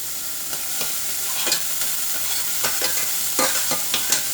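Onions sauté in a pan with a steady sizzle, broken by repeated scraping strokes as they are stirred, close and fairly loud with no voices.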